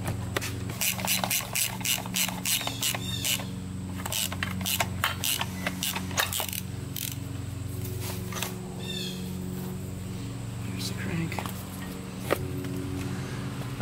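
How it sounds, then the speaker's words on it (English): A puller pushes the crankshaft out of a Suzuki RM125 engine case with rapid ratcheting clicks in quick runs, then slower metallic creaks and taps, close up over a low background hum. "now I put the puller on the opposite side of the crank"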